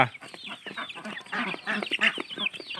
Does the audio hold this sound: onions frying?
no